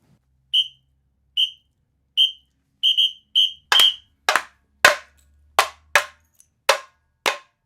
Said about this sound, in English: all together after the whistle